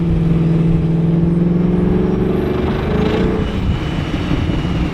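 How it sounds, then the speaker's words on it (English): Supercharged Ford Mustang 5.0 with an MBRP street exhaust, a loud, close engine drone with a strong whining tone that climbs steadily, then fades into a rougher rumble. "Now I can actually hear the blow-off valve."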